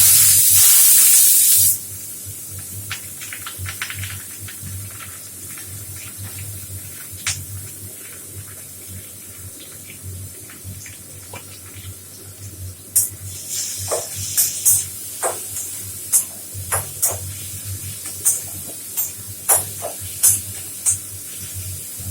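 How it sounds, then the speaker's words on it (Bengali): Chopped onions hit hot oil with a sharp hiss at first, then settle into a steady, close sizzle scattered with small pops and crackles that grow busier toward the end. "এবার দিচ্ছি কুচনো পেঁয়াজ"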